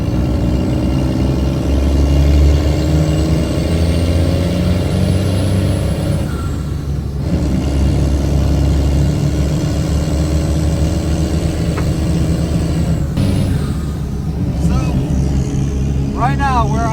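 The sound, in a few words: lifted monster truck engine idling to warm up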